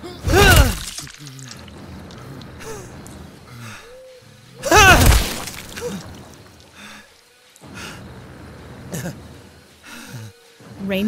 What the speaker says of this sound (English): He smashes his skull with the rock.